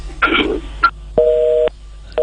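Telephone busy signal heard after a dropped call: a short burst of line noise, then repeated steady tones, each lasting about half a second, clear and close.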